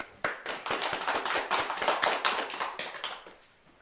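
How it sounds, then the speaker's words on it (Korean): A church congregation at a Sunday service breaks into brisk, loud clapping, many hands striking in quick succession before it tapers off near the end. "주님께 영광의 박수."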